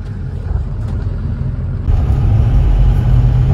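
A car with an electronic throttle, recently started after sitting a long time, idles with a low rumble, then the engine note rises and holds louder as the throttle is opened, close and continuous.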